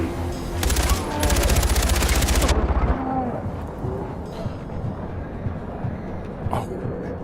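Rapid automatic gunfire from a weapon in Far Cry 4 rattles loudly for about two seconds, then gives way to softer game ambience and scattered impacts.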